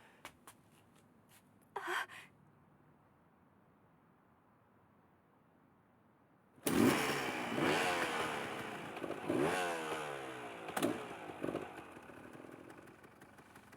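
An anime motorcycle starts and roars, a rough engine revving loudly and sweeping up and down in pitch as it rides off, after a near-silent stretch broken by a brief noise.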